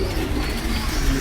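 Brief, low, soft cooing of pigeons, close by, murmuring over a faint background hum.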